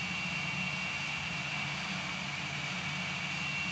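A MiG-19 jet taxiing toward the runway in the combat flight game Gunship 3, giving off a steady, unbroken engine roar with a high whine on top. No one speaks.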